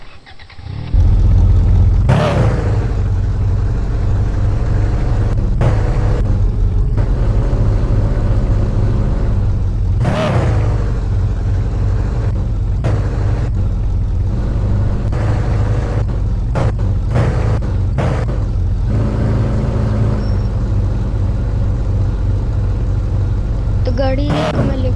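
A car engine runs steadily and loudly throughout, its low rumble constant while a few sharper knocks and brief bursts break through on top.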